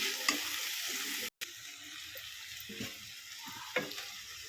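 A spoon stirs cooked ridge gourd and moong dal after chili powder is added, making soft wet scraping and sizzling sounds up close, with a brief dropout partway through.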